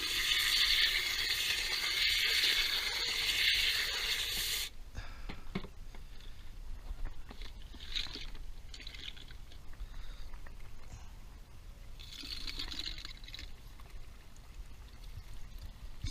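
Water pours and swishes through reloading tumbler media as it is rinsed, a steady loud stream for the first few seconds, then quieter trickling and splashing with occasional clinks of media.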